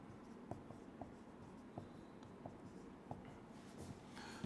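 Pen strokes scratch steadily across paper as chemistry examples are written out, a run of faint, close taps and scrapes in an uneven rhythm over a soft room hiss.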